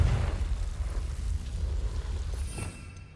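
Confringo fire spell blast in Hogwarts Legacy, a deep rumbling burst that rolls and fades over a few seconds inside a dark underground undercroft, with no voices.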